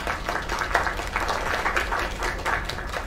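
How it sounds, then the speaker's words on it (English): Audience applause in a video game scene, a steady wash of clapping from a crowd holding at an even level for a few seconds with no voices over it. "Another round of applause."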